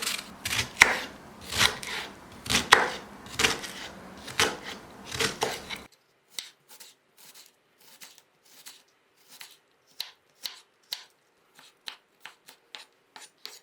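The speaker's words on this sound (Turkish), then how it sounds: "Şimdi soğanlarımı doğrayacağım." Onions being chopped with a knife on a board for a Turkish home-cooked dish: a dense run of quick blade strokes, then slower, separate cuts with short pauses between them, close and clear with no talk.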